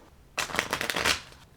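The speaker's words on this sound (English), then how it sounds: "I'm going to do a quick shuffle." A deck of cards being given a quick shuffle up close, a dense riffling burst of rapid flutter lasting about a second, then stopping abruptly.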